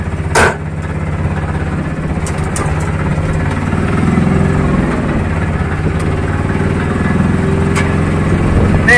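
A Bajaj Z diesel auto rickshaw engine running while driving, a steady, loud mid-pitched chugging drone that rises slightly in the middle of the run, close up.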